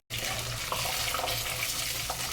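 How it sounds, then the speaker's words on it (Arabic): Rice washed under a running kitchen tap, a steady close-up splash of water lasting the whole stretch with no talk. "نغسل الرز"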